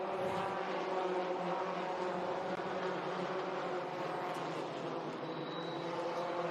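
Allison Legacy Series race cars lapping Florence Motor Speedway, a continuous loud droning engine roar from the pack holding steady throughout.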